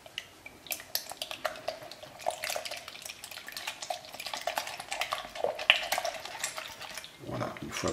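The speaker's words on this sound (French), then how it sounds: "Je mélange le tout." Brioche starter of milk and a spoonful of flour being stirred in a bowl, with soft irregular scraping and light liquid swishing at close range, mostly steady with a few sharper clinks.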